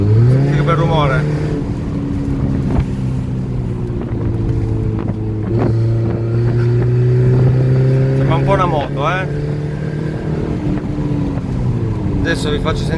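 A car engine fitted with a Record Monza-type exhaust valve, valve open, revs with a loud, steady droning note over about thirteen seconds, with brief rises in pitch, while someone talks over it.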